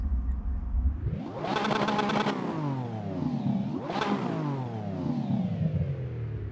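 A Lamborghini Revuelto engine in the racing game Assetto Corsa, heard from outside, revs up hard to a rasping peak, drops back, then flares again in a second sharp rev before sliding down with a descending rasp, loud and alone.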